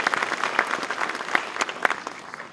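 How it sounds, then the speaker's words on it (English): Applause from a workplace safety stand-down audience: steady, dense clapping from a modest crowd, fairly close and even throughout, with no speech over it. "Give yourself a round of applause for that."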